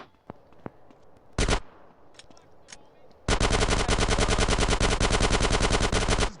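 Gang war gunfire in GTA San Andreas: a few isolated pops, then a brief burst, then a long, loud, rapid run of automatic fire close by, with game sounds and faint voices around.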